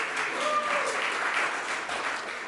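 A church congregation applauding at a Sunday service, a steady, moderately loud wash of clapping from many hands that holds evenly throughout without pause.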